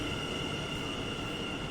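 Inside a train at Schiphol Airport, a steady rumbling drone of rail travel with a faint constant whine, heard briefly and without talk.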